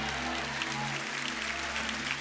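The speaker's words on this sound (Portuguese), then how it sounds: "Misture o seu aplauso com um belo sorriso." A church congregation applauds during a Sunday morning Baptist worship service, a steady wash of clapping from a large room over a low hum, sustained throughout without a break.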